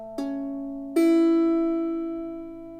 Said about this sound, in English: A major is played with the 2 middle fingers, 2nd finger and 3rd finger